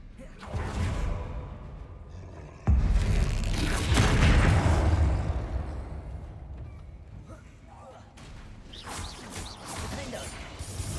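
Bombarda explosion spell in Hogwarts Legacy: a sudden heavy boom with a crashing burst that decays over several seconds, then further rumbling impacts, set among combat whooshes and mechanical clanks.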